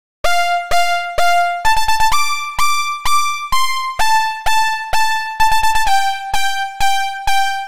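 A bright, buzzy synth lead plays a stepping melody of short and held notes in a steady rhythm, loud and alone with no voices.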